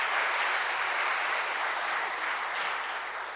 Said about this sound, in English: you can give him another round of applause